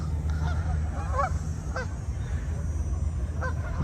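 Ducks or geese swimming on a lake at Centre Island in Toronto give a few faint, scattered honks over a steady low rumble of background noise, with no voices.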